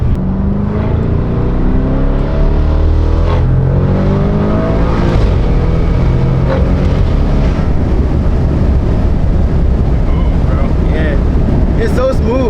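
A car with a 4.0T engine cruising on the road at about 80, heard from inside the cabin as a steady loud drone and road roar with low wind noise throughout and faint voices underneath.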